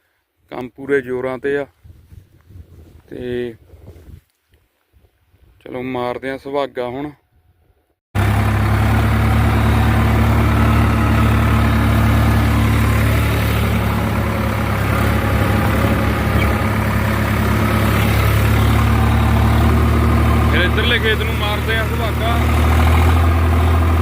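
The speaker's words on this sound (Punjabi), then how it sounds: "ਦੂਆ ਟਰੈਕਟਰ ਚੱਲਦਾ ਉਧਰ" A few spoken phrases come first, then a tractor engine idles with a low, steady rumble that carries on to the end, during maize sowing.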